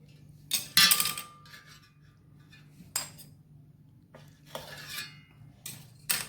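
Cutlery cuts into a banana-leaf-wrapped idli, producing several separate metallic clinks and scrapes against a plate, spaced apart with quiet gaps between them, close and fairly soft.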